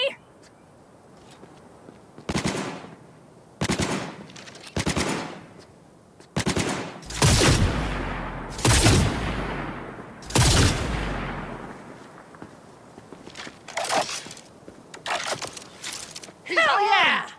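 Gunfire in the video game Cyberpunk 2077: repeated sharp bursts of automatic fire, some short and isolated, others longer and heavier, loud and close, with voices shouting between the volleys.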